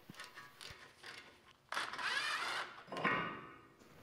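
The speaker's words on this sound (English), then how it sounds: "Now remove the brake line bracket bolt with a 12 millimeter socket or wrench" Ratcheting socket wrench working a 12 mm brake line bracket bolt on a 1996–2001 Honda CR-V during steering knuckle replacement, giving a few soft clicks followed by two longer bursts of ratchet clatter, close and moderately loud.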